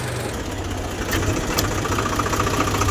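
Tractor drivetrain with a noisy differential housing, running steadily in top gear, gives a continuous low mechanical engine drone with faint knocking throughout, fairly close and loud, with no talking.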